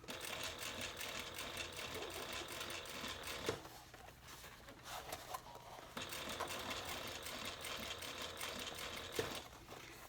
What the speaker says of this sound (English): we're just going to sew right to where we started